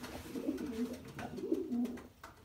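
Racing pigeons coo softly in a loft with individual boxes, low repeated cooing phrases close by and fairly quiet, with no talk.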